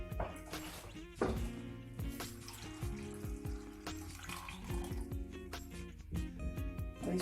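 A glass of water is poured into a pot of whole masoor lentils seasoned with salt, turmeric and crushed garlic, giving a steady, close splashing pour lasting several seconds.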